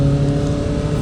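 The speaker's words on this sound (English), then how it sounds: "this car sounds dope" A car running in sport mode gives off a loud, steady engine drone close by, with no talk over it.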